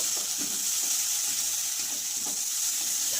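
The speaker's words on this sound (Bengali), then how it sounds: "ভালো করে মশলাটাকে কষিয়ে নেব" Ginger paste, chopped tomato and turmeric masala sizzle steadily in a pan for a river crab curry, a continuous close frying hiss with a few soft stirring scrapes and no talk.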